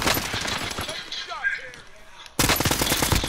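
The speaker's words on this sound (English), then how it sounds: "Oh, somebody shooting at him." Rapid automatic gunfire from Call of Duty Modern Warfare, bursts of sharp cracks at the start and again loud at the end, with a quieter gap between and voices talking faintly underneath.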